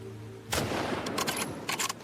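Video game gunfire in a John Wick-style shooter: several loud, sharp shots crack in quick bursts after a brief quiet start, with gaps between volleys.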